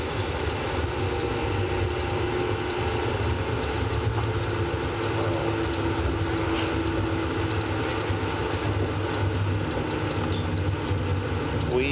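A United Express CRJ-200 jet lands at Dallas Love Field, heard from inside the cabin as a loud, steady roar of engine and airflow noise that stays constant throughout.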